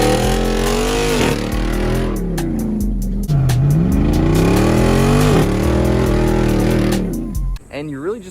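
Jeep Wrangler Rubicon 392 with a 6.4-liter Hemi V8, revved repeatedly up and down in loud close rising and falling sweeps, then cut off abruptly near the end.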